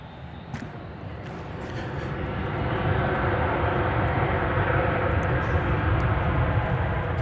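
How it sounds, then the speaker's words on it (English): An American Airlines airliner departing DFW Airport roars as a broad, rising engine rumble that swells and then holds loud, with a few faint clicks early on. "I think you just saw American Flight 1279 leaving for somewhere"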